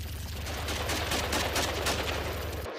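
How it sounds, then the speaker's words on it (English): Rapid gunfire rings out in an anime action scene, a dense, continuous burst of shots lasting a few seconds at steady loudness before cutting off abruptly, with no speech over it. "shoot the car instead of Derrida, who's literally standing still"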